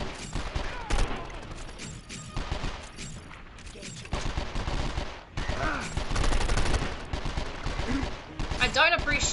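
Gunfire in the video game 24: The Game, with dense overlapping volleys of shots running almost without pause across the whole stretch, loud and busy, ending in a flurry of sharper bursts.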